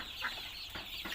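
Chickens clucking inside a shed covered with tarpaulin, a few short calls standing out over a steady hiss of background noise, moderately near and fairly quiet.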